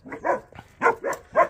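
A dog barks outdoors on a morning walk, five short, sharp barks in an uneven rhythm, fairly close and clear with no talking.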